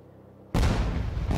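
Fireworks burst in the video game Princess Connect Re:Dive, a sudden loud booming blast after a quiet moment, followed by a sustained crackling roar.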